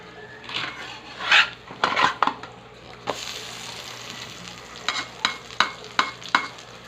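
Pancakes cooking in a frying pan, with a faint sizzle under repeated scraping and clinking of a utensil against the pan, several sharp close taps in quick succession, no talking.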